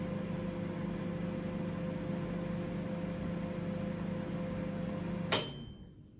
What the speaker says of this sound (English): You ever feel like it takes forever when you're looking at a microwave?